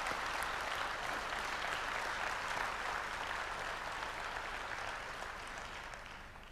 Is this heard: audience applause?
yes